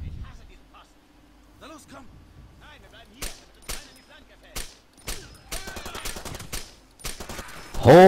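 Gunfire in the Far Cry 2 video game: scattered single shots and short bursts, with sharp cracks that grow denser toward the end, mixed with game sounds and a voice talking over them.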